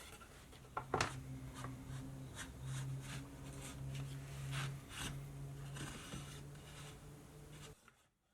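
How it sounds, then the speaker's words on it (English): Hand chisels cut a groove into wood with repeated short scraping, paring strokes over a faint steady hum, close and moderately loud, ending in silence. "And then I'll use chisels to make a groove that I can slot the panel into."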